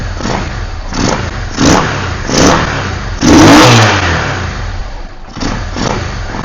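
A Yamaha V-Star 650 motorcycle engine, fed by an external fuel line, idles slowly and a little unevenly, close and loud, with a few brief revs and surges between stretches of lumpy idle.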